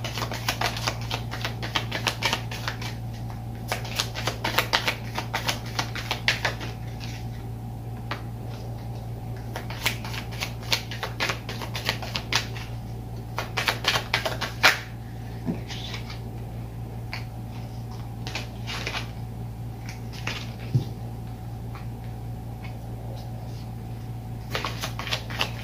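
Oracle cards being shuffled and drawn by hand while three cards are picked out. Soft, rapid papery clicks and flicks come in clustered bursts over a constant low electrical hum, close to the microphone with no talking.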